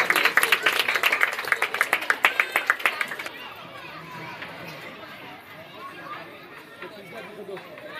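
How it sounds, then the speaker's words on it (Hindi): An audience at a school Grandparents' Day celebration claps for the winners in a lively round of applause that fades after about three seconds into murmuring crowd chatter. "जोरदार तालियां हो जाए हमारे सभी विनर्स के लिए।"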